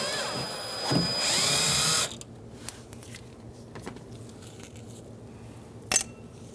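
A power drill backs out Phillips screws from a speaker inside a 2007-2015 Mazda CX-9 door, whining loudly for about two seconds up close, then light clicks and handling noise follow.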